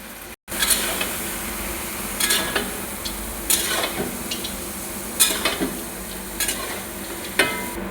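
Poppy seed paste, 100 grams, goes into a pot of Bengali shukto and is stirred, giving steady scraping and stirring over a soft sizzle, with a few sharper utensil knocks against the pot.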